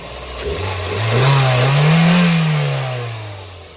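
A Toyota WiLL Vi's turbocharged engine revs up, its pitch rising and holding before easing back down, loud and close with a smooth turbocharged whoosh.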